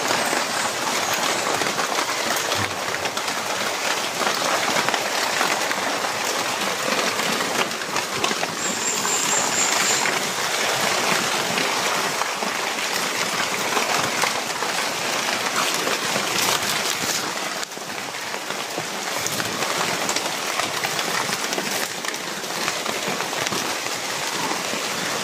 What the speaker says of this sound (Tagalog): Mga tol, pasensya na po, sobrang ulan po talaga no.